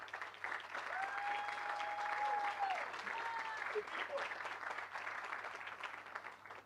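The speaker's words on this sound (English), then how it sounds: "Let's give you a round of applause." An audience applauds at the topping-off ceremony for Norton West Hospital in Louisville, a steady moderate round of clapping lasting several seconds, with a voice speaking over it.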